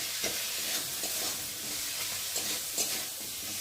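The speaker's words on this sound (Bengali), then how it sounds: "দিয়ে মশলাটা একটু ভালো করে কষিয়ে নেব" Spice paste of turmeric, green chilli, ginger and cumin sautéing in a pan, a moderate continuous sizzle with faint stirring scrapes and light clicks, close by, with no speech.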